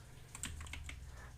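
Brief burst of typing on a computer keyboard, several quick close keystrokes in an uneven rhythm over a low steady hum, with no talking.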